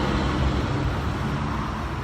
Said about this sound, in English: That's a really loud truck.